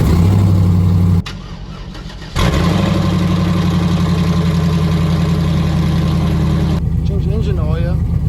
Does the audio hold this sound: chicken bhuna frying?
no